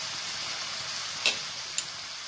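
Mushrooms and tomato sauce sizzle steadily in a pan, giving a continuous hiss with a couple of sharp utensil clicks as the mix is stirred, and nobody talks.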